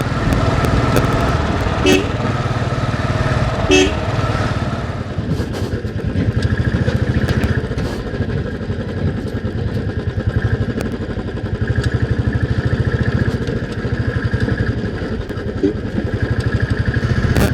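A Bullet motorcycle rides a mountain road near Kangra, Himachal Pradesh. Its engine gives a steady, loud thumping drone throughout, and a couple of short horn toots come early on.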